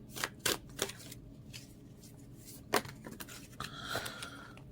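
Tarot cards are handled and drawn in a few sharp, close riffles and slaps with quieter gaps between them, ending in a brief rustle.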